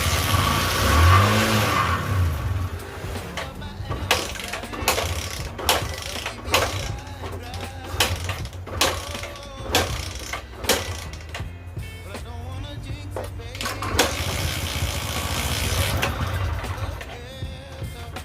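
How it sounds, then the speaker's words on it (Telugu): A motorcycle with a dirty carburetor being started after a year of sitting at a village mechanic's, repeated kick-start clatters and sputtering engine bursts that catch and die, close and uneven, with someone speaking over it. "స్టార్ట్ అవుతుంది, ఆగిపోతుంది ఫ్రెండ్స్."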